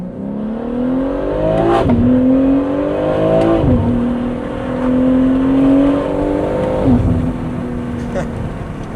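A BMW G8X with the S58 engine, Valvetronic exhaust and HFD midpipe, revs hard several times in succession, each rise climbing to a raspy peak before dropping back, loud and close with buildings around.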